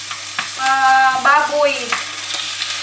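Food sizzling and frying in oil rendered from pork fat, a steady loud crackle with bursts of stirring, a voice briefly speaking over it.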